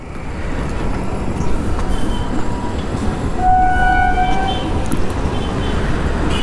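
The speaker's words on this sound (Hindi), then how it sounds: "नीचे से ट्रेन जा रही है।" A train rumbling along the tracks below a road near Madhyamgram station, heard from above as a loud, steady roar with squealing wheel tones partway through, and no talking.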